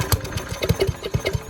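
A Briggs and Stratton 5.5 HP small engine sputters as it tries to start on half choke, a short, close run of quick, uneven chugging pulses.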